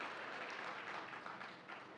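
Faint, distant audience clapping at a Tamil public speech, a soft continuous patter of hands lasting about two seconds at low level.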